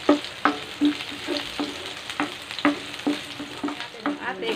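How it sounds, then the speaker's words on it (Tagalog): Garlic frying in a pan, crackling and hissing steadily under a regular rhythm of spatula strokes against the metal, close and fairly loud, with no voices. "Antayin na natin mag golden brown ang ating garlic."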